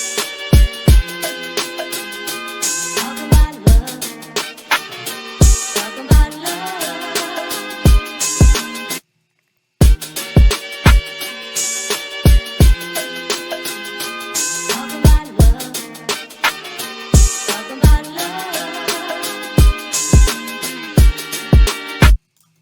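A looping sampled boom bap hip hop beat made in FL Studio, with punchy kicks and layered instruments, repeating in two phrases separated by a brief gap, no voices.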